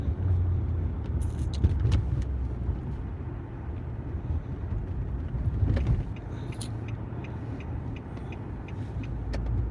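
A car drives along a road, a steady low engine and road rumble with wind buffeting, heard from inside or close by.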